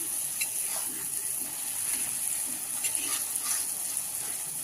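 Spice masala frying in oil for a banana flower curry, a steady close sizzle with light crackles and occasional stirring scrapes, continuous and moderately quiet.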